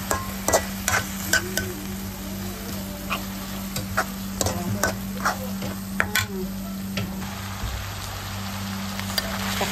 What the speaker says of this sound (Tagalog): Hayaan ko lang siya na maiga at lutusta ng bahagya.